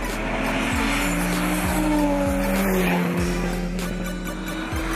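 A Lada Niva and a BMW launch side by side in a drag race, engines roaring loud and close with rising revs and repeated gear-change dips, tires squealing over the steady din.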